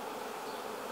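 Honeybees buzz densely on a brood comb, a close, continuous hum with no pauses or voices.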